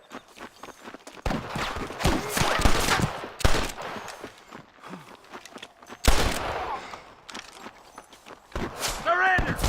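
Sniper gunfire in the Western video game Red Dead Redemption, several sharp shots scattered among footsteps and shouting voices.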